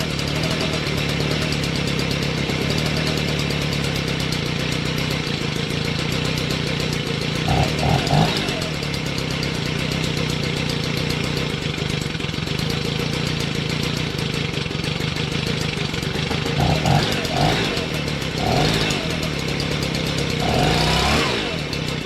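Stihl BG55 leaf blower, its carburetor, fuel line and air filter base under repair, idles with a steady, close two-stroke drone throughout, with a few brief clattering knocks mid-way and near the end.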